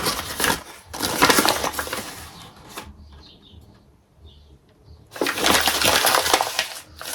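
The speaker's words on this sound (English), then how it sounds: "I've got some more paper coming out of it." Paper rubbish being pulled out of a bin makes loud crinkling, rustling bursts: a long scrunching stretch, a quieter pause, then another burst of crumpling close to the microphone.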